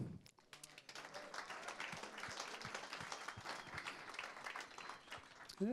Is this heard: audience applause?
yes